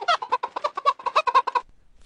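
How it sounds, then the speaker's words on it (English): A chicken sound effect, a rapid run of about a dozen clucks in a steady rhythm, close and clear, ending abruptly with a faint tail. "Is that the best chicken sound effect you could find?"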